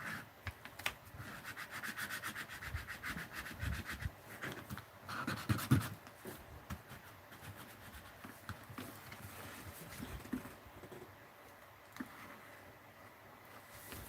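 A palette knife scrapes paint off a mixed-media art journal page, producing continuous rough rubbing and scratching strokes up close, with a few sharper knocks partway through.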